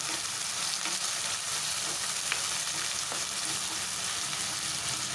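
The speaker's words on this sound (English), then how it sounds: "And fry this very well." Steady close sizzling of about three medium tomatoes frying in a pan, an even crackling hiss with occasional faint pops and stirring scrapes.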